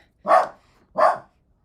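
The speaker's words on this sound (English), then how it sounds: "She barks like crazy with the doorbell," A pet dog gives two loud, sharp barks close by, set off by a doorbell, each bark short with a brief pause between, and no talk over them.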